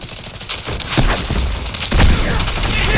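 Explosions and gunfire from a Delta Force mobile firefight: a couple of heavy booms, likely a frag grenade blast, amid rapid bursts of shots, loud and close, with no talk over it.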